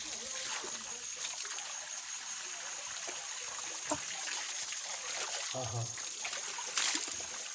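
Water from a natural spring splashing and trickling into a bottle outdoors near a broken irrigation tank on farmland, a steady close wash of flowing water with a few brief voices over it.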